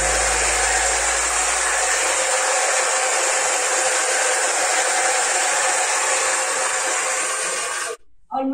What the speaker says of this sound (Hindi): इनके पास था ये अगारो का टर्बो प्रो हेयर ड्रायर।